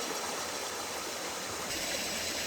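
A long, clear river flows steadily through rural countryside, heard as a constant, moderately faint broadband rush of water with no voices over it.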